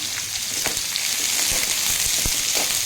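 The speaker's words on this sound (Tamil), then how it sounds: "அடுத்து பெரிய வெங்காயம் கட் பண்ணி வச்சுருக்கிறதையும் சேர்த்துடலாம் சேர்த்துட்டு இதெல்லாம் வதக்கிடுவோம்" Chopped onions and green chillies sauté in hot oil for an idli chutney, making a dense, continuous close sizzle with occasional crackles and stirring scrapes, loud and steady with no voices.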